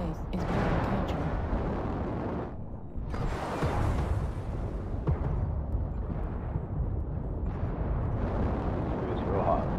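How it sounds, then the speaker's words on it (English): Artillery strike explosions in a tank video game: heavy booming blasts and rumbling roars rolling one after another, with a game voice announcing between them. "Artillery strike activated."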